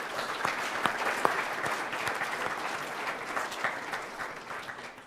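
Audience at a Pro Football Hall of Fame event claps for volunteers, a dense spread of many hands applauding steadily throughout, gradually thinning toward the end.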